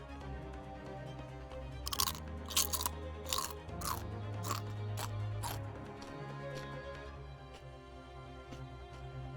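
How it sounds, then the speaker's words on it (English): A potato chip crunched close to the microphone: several sharp, crisp crunches in quick succession, then a few softer chewing crackles fading out, loud and intimate against a low hum. "This is a chip crunch here."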